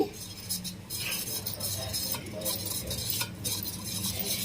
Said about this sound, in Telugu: ఇది యాడ్ చేసేటప్పుడు ఒకసారి మనం దీన్ని మంచిగా కలుపుకోవాలి